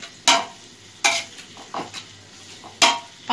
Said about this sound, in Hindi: 5 से 10 मिनट हम इसे पकाएंगे और थोड़ा पका लेंगे